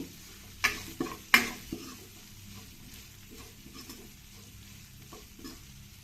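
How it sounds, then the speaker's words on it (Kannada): Chopped onion frying for rasam, a low steady sizzle with a few sharp spoon knocks against the pan early on, then softer stirring scrapes, close up and without voices. "ಈರುಳ್ಳಿ ಸ್ವಲ್ಪ ಟ್ರಾನ್ಸ್ಪರೆಂಟ್ ಆಗೋವರೆಗೂ ಒಂದು ಸ್ವಲ್ಪ ಇದನ್ನು ಫ್ರೈ ಮಾಡ್ಕೊಳ್ತೀನಿ"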